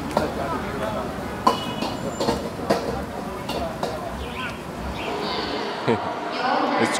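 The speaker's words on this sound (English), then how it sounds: "It's Kunming train station here." Busy ambience at Kunming train station in China, with rumbling rail noise, clanks and distant voices blending together, a few sharper knocks standing out.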